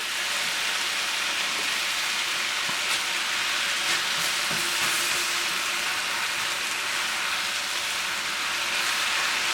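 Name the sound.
vegetable japchae noodles sizzling as they heat in the pan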